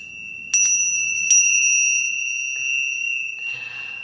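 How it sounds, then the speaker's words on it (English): A meditation bell gives two bright, close strikes in quick succession, followed by a long, pure sustained ring that slowly fades, with faint rustling near the end. "The noise of the bell actually cleanses the space with noise."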